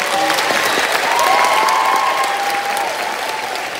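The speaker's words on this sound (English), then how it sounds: "Would you all clap it up just one more time for that?" Steady, full applause from an audience at a middle school band winter concert, dense and sustained throughout, with faint vocal tones and cheers threaded through the clapping.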